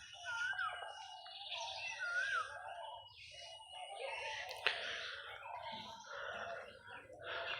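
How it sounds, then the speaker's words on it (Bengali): Koel, a cuckoo, calling in spring among leafless trees, its repeated rising whistled notes heard at moderate distance amid a busy chorus of other birds, with faint low rumble underneath. "শুনেন কোকিল ডাকতেছে"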